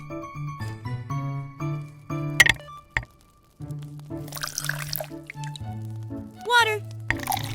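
Water poured into a bowl while making a miniature rainbow chocolate KitKat cake; a few short splashing pours rise over steady background music.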